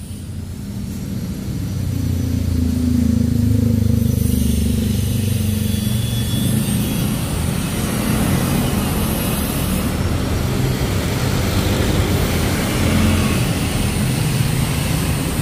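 Motor vehicles pass close by on a road, swelling into a loud, sustained engine roar that holds steady for several seconds.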